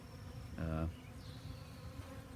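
Bees buzzing around a hive, a brief louder swell of droning wings passing close for under a second against a steady low outdoor hum.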